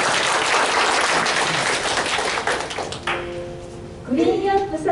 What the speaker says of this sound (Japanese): それでは、拍手で始めていきましょう。